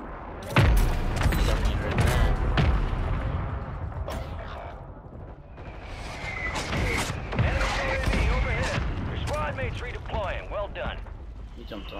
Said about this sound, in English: Probably because of the cluster strike.